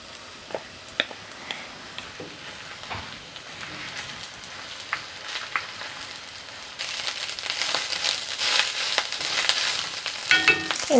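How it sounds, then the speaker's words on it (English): Rice stirred into a hot pan of melted butter, green onions and a little vegetable oil: a steady crackling sizzle like light rain that swells louder partway through, with occasional taps of a utensil, close up and without talk. "now I'm adding in the rice"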